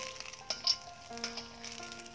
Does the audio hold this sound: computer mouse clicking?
no